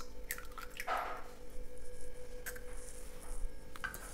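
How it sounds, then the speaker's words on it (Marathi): Two eggs are cracked into a bowl in a kitchen, giving a few brief wet cracks and squishy drips spaced across the moment, close and quiet over a faint hum. "हे अशी दोन अंडी मी ह्यात फोडून घेतलेली आहेत"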